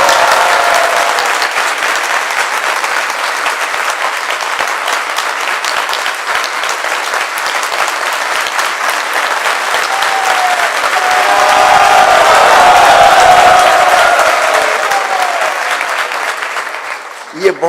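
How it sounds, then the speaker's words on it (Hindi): Sustained audience applause at a temple lecture in Udhampur, loud and continuous for the whole stretch, swelling slightly near the end with no one talking over it. "और बजाओ तालियां।"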